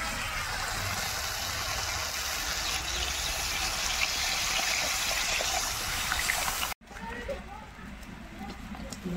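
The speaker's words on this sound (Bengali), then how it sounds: "এখন জল দিয়ে দেবো" Water pouring into a pan of fried spice masala for a fish curry, a loud continuous gushing stream that cuts off abruptly near the end, leaving a quieter bubbling hiss.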